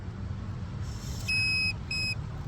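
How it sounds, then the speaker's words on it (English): Hero Vida V1 Pro electric scooter giving a loud electronic unlock beep: a long steady tone followed by a shorter second one, clear over a low background rumble. "You will get this huge beep"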